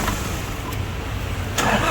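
A Nissan Frontier 2WD with a YD25 diesel engine cranks and catches, a brief close mechanical rumble with a rising burst at the end, no talk.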